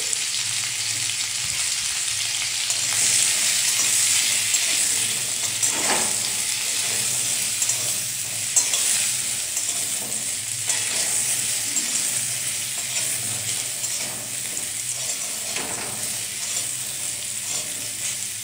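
Vegetables, including cauliflower, frying in oil with a pinch of turmeric and salt while making vegetable khichuri, a steady close sizzle running throughout with faint scraping and stirring moments, no talking.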